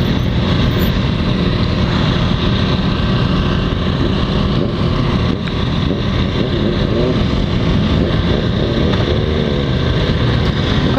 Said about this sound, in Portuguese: O barulho das motos fritando lá no evento.